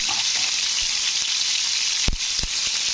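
Pointed gourd (potol) sizzles steadily in hot oil in a pan, with salt and turmeric added, a dense continuous fry broken by a couple of brief knocks from a spoon near the end.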